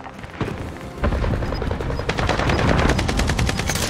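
Rapid automatic gunfire from Call of Duty Warzone, loud and dense, with bursts of shots and booming impacts piling up into a sustained barrage.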